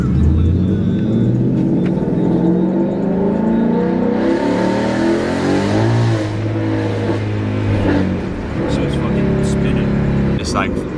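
A Ford Mustang with a new intake and tune accelerates hard, its loud engine droning and rising through the revs close by, filling the whole stretch with rumble and whine.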